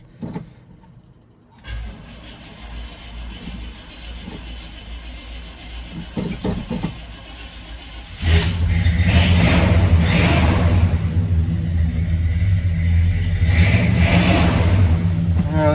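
An old square-body truck engine cranks after some shuffling and clunks, then catches and settles into a loud, steady, rumbling idle close by.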